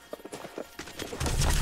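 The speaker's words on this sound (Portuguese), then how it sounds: "Tô levando esse cavalo aqui" A horse being led along walks with a steady clip-clop of hooves, close and moderately loud, followed by a rising rumble of noise at the end.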